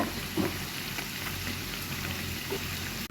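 Khaja pastries fry gently in hot oil at low heat, giving a soft, steady sizzle with light crackles throughout, fairly quiet and close, no talking.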